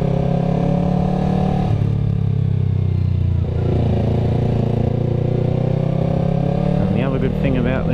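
Yamaha YZF R3 sport motorcycle ridden on the road, a steady mid-pitched engine drone with wind rumble running throughout, loud and close, with no talking over it.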